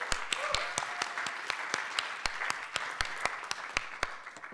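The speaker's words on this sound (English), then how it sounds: "Big applause again." An audience applauds, a thin crowd of sharp, rhythmic claps ringing steadily in a hall at a startup pitch event.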